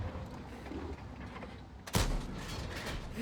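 A single loud tank cannon shot cracks out sharply partway through, over the low rumble of battle in a tank combat video game.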